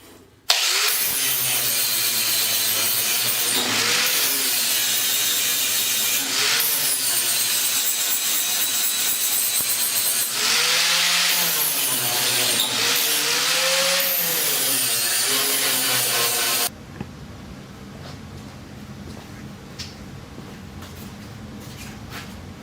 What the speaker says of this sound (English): I'm going to use a flap disc to smooth up all the areas that I just cut.